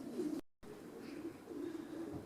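Racing pigeons in a loft coo softly in low, rolling murmurs that continue throughout, with a brief break near the start and the birds close by.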